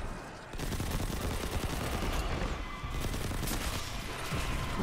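An SMG in Destiny 2 fires dense, rapid sustained bursts while the player is airborne, loud and continuous with only brief breaks between strings of shots.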